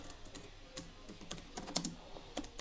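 Quick, light keystrokes tap on a computer keyboard in irregular bursts, close and fairly quiet, with no voice over them.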